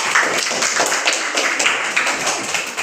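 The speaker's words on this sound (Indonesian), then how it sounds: "sama tepuk tangan bersama semua kelompok" A class of primary school pupils claps hands together in a steady burst of overlapping claps filling the classroom, loud and continuous.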